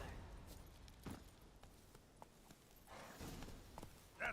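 Roach the horse walking in Witcher 3, faint clip-clop hoof steps in an irregular rhythm, quiet and close, with soft in-game ambience.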